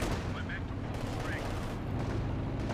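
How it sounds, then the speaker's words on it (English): Flame barrage artillery from Company of Heroes 2 rumbles as a dense, continuous wash of explosive booms and crackling fire, loud and sustained, with faint game voices mixed underneath. "Got the flame barrage coming down."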